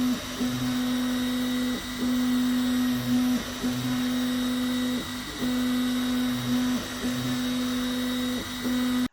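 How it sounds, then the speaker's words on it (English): An Algo laser engraver cuts planks for a mechanical shark model, its steady whining motor hum running throughout with repeated short shifts and soft clicks as the head moves between cuts, close and unbroken. "perfect cuts were made from my Algo laser engraver"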